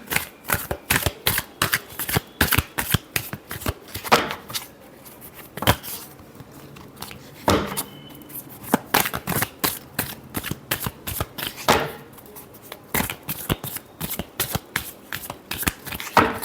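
Tarot cards shuffled in rapid, crisp riffling bursts, loud and close, running continuously with brief pauses between flurries and no talking.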